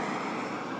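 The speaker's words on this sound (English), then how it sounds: "The sounds of San Diego, the jets or planes." A jet plane over San Diego, heard as a steady, broad roar held at an even level through a brief moment, with no talking.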